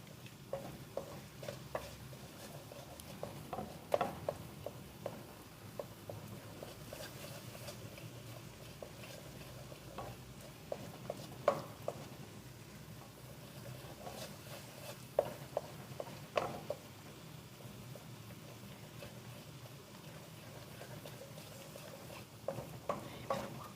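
Khoya and eggs being stirred briskly in a pan for carrot halwa, a faint, continuous scraping and shuffling with soft, irregular clicks of the spoon against the pan.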